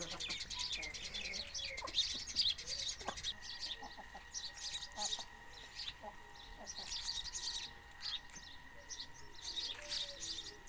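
Chickens clucking and squawking as they are chased around a yard, the calls coming faint and scattered, with chirps from other birds and someone talking over them.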